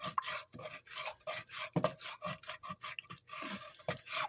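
A spatula scrapes browned charred bits off the bottom of a pan while it is deglazed with peanut oil for a gumbo, in rapid repeated rasping strokes, close and fairly quiet, with no talking.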